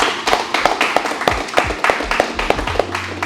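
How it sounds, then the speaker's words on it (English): A small group claps for a Brazilian jiu-jitsu tournament competitor, a run of sharp, fairly regular hand claps close by, with a voice speaking over them. "a big round of applause for him, guys."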